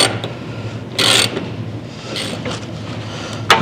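A ratchet tightening the lower bolts and nuts on a Scout fender during restoration, with a few sharp clicking bursts and brief rasping strokes, close up and loud, over a low background hum.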